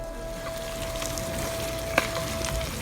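Fried prawns dropped into boiling spiced oil and vinegar for homemade Kerala-style prawn pickle, giving a steady close sizzle and frying hiss with a brief sharp crackle burst near the end, no talk.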